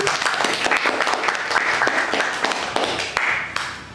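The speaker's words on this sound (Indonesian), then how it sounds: "Tepuk tangan." Applause greets the opening of a student podcast, a burst of clapping with sharp individual claps standing out, fading toward the end.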